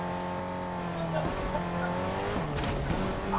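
Car engine in the Fortnite video game, revving through rising and dropping gear shifts with hints of tire squeal, loud and close, with no talking.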